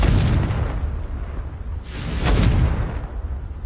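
A video-game Confringo explosion spell booms with a dense, rumbling blast that swells and decays, then a second crackling burst follows, loud and close with no talk over it.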